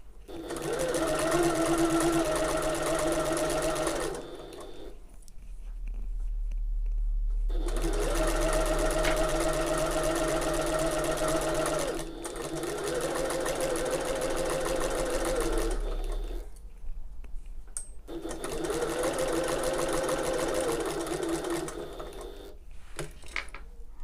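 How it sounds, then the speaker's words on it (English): Sewing machine stitching layers of fabric for an open-top tote bag: steady, rapid mechanical whirring in four long bursts separated by short pauses, fairly close, no talk. "Try and keep these layers aligned as they come under the presser foot."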